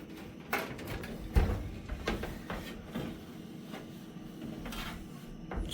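Metal casing of a Sony PVM 20M4U monitor being slid off after the screws are removed, giving soft scraping and rubbing noises with a few light knocks, close and fairly quiet.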